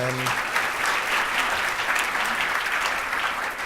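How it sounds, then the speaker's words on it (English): Conference audience applauding research panelists, a continuous, even burst of many hands clapping throughout. "let's give our panelists a round of applause"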